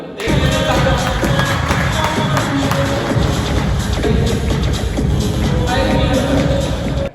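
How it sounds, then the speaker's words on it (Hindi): Audience at a family reunion gathering clapping and cheering loudly together, a dense continuous burst of applause with thumps and shouts, close and steady for several seconds. "तो आप अपने लिए ताली बजा दो"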